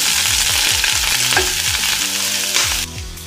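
Two cups of spinach frying in a tablespoon of olive oil in a skillet make a steady, bright sizzle, while a rhythmic low musical beat pulses underneath throughout. The sizzle cuts off slightly just before the end, with no talking.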